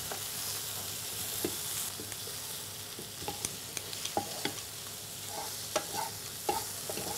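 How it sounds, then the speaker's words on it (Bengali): A cook in a Ramadan cooking segment stirs minced meat frying in a pan. A soft continuous sizzle runs underneath repeated scraping and tapping strokes from a spatula, close and moderately quiet, with no talking. "আমি এটাকে একটু নেড়ে নিচ্ছি।"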